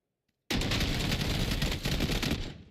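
Rapid automatic gunfire in the PUBG battle royale game, a loud continuous burst of shots after a moment of silence, fading slightly at the end.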